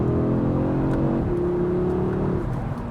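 An Audi RS3 engine revs steadily higher, a loud sustained drone rising in pitch, then shifts and climbs again, close and continuous.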